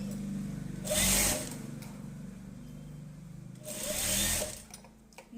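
A sewing machine stitching a blouse runs in two short bursts, each about a second of fast whirring, separated by quieter pauses with faint handling.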